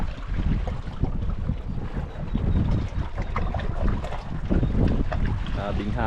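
Strong wind buffets the microphone in gusty rumbling bursts, with water and boat noise underneath and brief voices mixed in.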